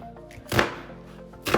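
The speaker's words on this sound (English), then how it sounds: "So I'll be cutting my onions and ginger" Knife chopping onions and ginger on a board, two distinct close chops about a second apart over faint background hum, no talking.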